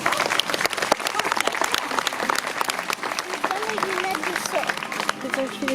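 An audience at a zoo bird show greets a Cape eagle owl with sustained, dense applause, while voices carry over the clapping.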